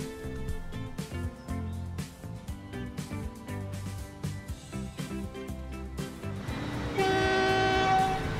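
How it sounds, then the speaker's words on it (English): A freight train in the Transport Fever 2 game hauling food wagons, with rumbling rail noise and a sustained horn tone near the end, heard over steady background music. "Let's wait for the train to make a couple of deliveries"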